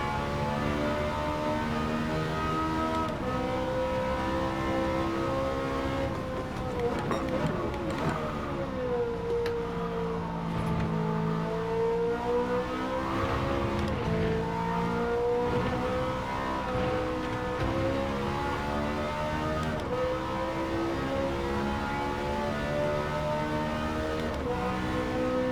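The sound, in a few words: race car engine revving in video game Gran Turismo 7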